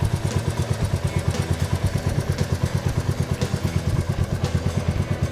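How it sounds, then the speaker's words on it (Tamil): A Royal Enfield Meteor 350 motorcycle engine idles close by with a steady, even thumping beat and light mechanical clatter, with no voices. "மீட்டியார் 350 வந்து ஸ்டார்ட் பண்ணி அதோட வைப்ரேஷன் பார்க்கலாம்"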